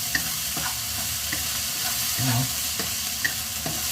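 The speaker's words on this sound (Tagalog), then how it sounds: "Haluin lang natin ito." Food cooking in a pan is stirred, with scraping clinks of the utensil against the metal at intervals over a steady close sizzle. No one speaks.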